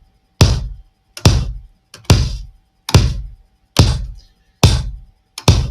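A layered electronic kick drum hits seven times at a steady, even pace, each hit punchy and booming with a sharp click on top. The hits stand alone in silence between strikes.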